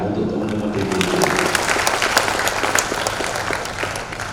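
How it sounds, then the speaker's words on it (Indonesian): Applause from a crowd of party members at a political training event in East Java, steady clapping throughout with a voice speaking over it at the start. "Tepuk tangan untuk teman-teman DPD."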